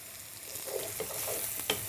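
Cumin and coriander fry in oil, a short burst of quiet steady sizzling with a couple of faint pops, close up with no talking.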